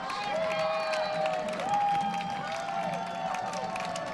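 A women's college soccer crowd at Boise State versus Cal State Northridge cheers and claps from a distance, a sustained roar with shouts rising and falling under the noise.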